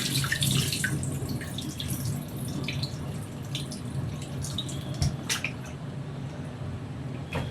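Pork liver rinsed under a running tap in a home kitchen, a steady wash of water with small splashes and drips throughout, fairly close.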